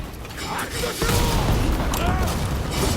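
A loud cannon blast from the Rise of the Ronin video game booms in about a second in and leaves a dense, rumbling roar of gunfire and clatter that carries on under a speaking voice.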